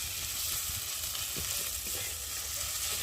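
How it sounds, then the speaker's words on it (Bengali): Masala spice paste fries steadily in hot oil in a pan as it is stirred for a Bengali fish curry, a dense, continuous sizzle with soft scraping, close and even throughout with no talking. "মশলাটা ভালো করে ভাজা যতক্ষণ না হবে ততক্ষণ কষাতেই থাকতে হবে"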